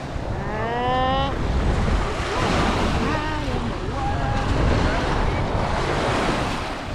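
Cold waves of Lake Superior break and wash onto the shore at Pictured Rocks in Michigan's Upper Peninsula, a loud continuous surf roar buffeted by wind on the microphone, with voices talking over it.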